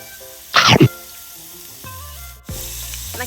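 Pork sizzles steadily on a hot Thai tabletop grill while camping, with a soft frying crackle throughout and one brief louder burst near the start.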